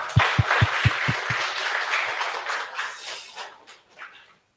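An audience at a healthcare AI session applauds a speaker. The clapping is moderate and fades out over a few seconds, with low thuds near the start.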